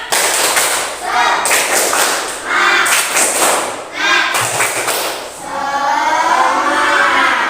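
A school class claps a rhythmic 'tepuk semangat' cheer together at the close of a morning lesson, bursts of loud group clapping and chanting voices in a repeating pattern, with a teacher's voice between.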